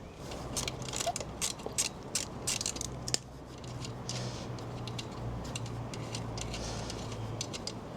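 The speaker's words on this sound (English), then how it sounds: "Just got to remove the split pin there." Sharp metallic ticks and clicks close by as a split pin is worked out of a Honda CB125F motorcycle's rear wheel axle, the clicks irregular over a quiet background.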